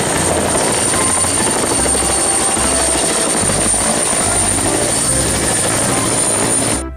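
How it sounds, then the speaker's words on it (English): A helicopter flies close by with a loud, steady rotor and engine roar lasting throughout, heard alone without talk. "Wow, what a beautiful helicopter."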